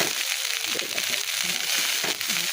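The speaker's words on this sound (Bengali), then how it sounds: "সুন্দর করে ভাতটা ভাজি" Cooked rice frying with potato, onion and chili in a pan, a steady close sizzle and crackle running through the whole stretch with no talk.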